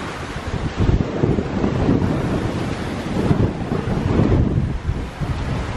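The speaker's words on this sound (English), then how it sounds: "This is the wind that always blows in Cape Town." Strong wind gusts buffet the microphone in Cape Town, a steady loud rumbling roar that surges and eases, with no voices.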